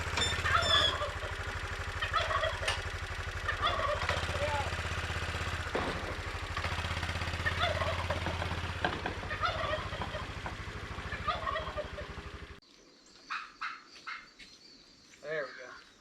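Farm turkeys gobble repeatedly on a rainy day, their calls rising over a steady engine drone from farm machinery, then a few louder gobbles ring out once the motor cuts off.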